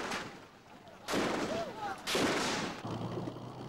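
Gunfire in Beijing in 1989, heavy bursts of shots in separate loud blasts with noisy echoing tails, recorded in a gritty way.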